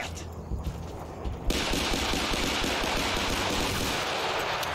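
Dense, rapid machine-gun fire and gunshots in the video game Battlefield: Bad Company, loud and continuous, getting heavier partway through with a sharp blast, no talking.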